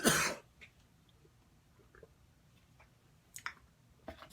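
A man who is getting over an illness lets out a sharp cough at the start, then goes quiet before a few softer throat-clearing rasps near the end, close to the microphone.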